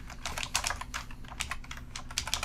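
Steady, quick tapping on a computer keyboard, close and fairly quiet, with irregular clusters of keystrokes and brief gaps, no voices over it.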